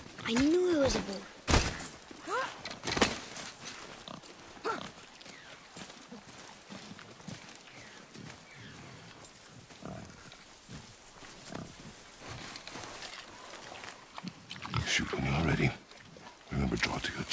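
A wild boar in the God of War video game grunts and snorts amid game sounds, with scattered thumps and heavy footfalls, loud bursts at the start and end and quieter stretches between.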